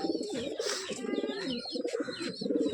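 A black pigeon cooing close by, a throaty series of rolling coos repeating in bursts over a few seconds.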